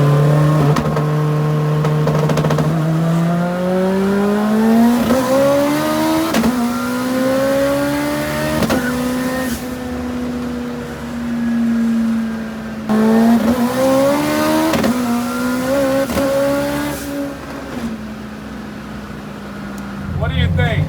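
A 1000hp all-wheel-drive Honda with raised boost and rolling anti-lag accelerates hard, its engine climbing through repeated rising revs with abrupt gear-change breaks, loud and close from inside the car, with voices heard over it.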